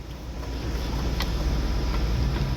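A 1.6 CRDi 16-valve car engine idling with an unstable, wavering idle speed, heard as a close, steady low rumble with a wind-like hiss over it.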